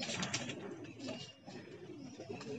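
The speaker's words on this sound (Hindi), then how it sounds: "देखिए एक कबूतर वहाँ बैठा है।" Several pigeons settling on a perch make quiet, murmuring low coos that roll on continuously and faintly, with no voices.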